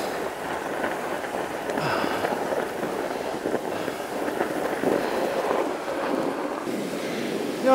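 Wind blowing steadily over frozen Lake Pyhäjärvi at about -24°C, a loud, constant broadband rush with gusty swells and no speech over it.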